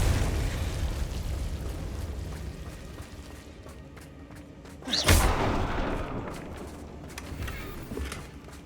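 A Confringo blasting spell explodes in Hogwarts Legacy: one sharp, loud burst about midway through over a rumbling game soundscape, with lighter effects before and after.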